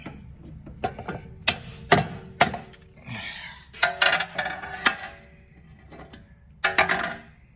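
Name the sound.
hitting car stabilizer links to break them off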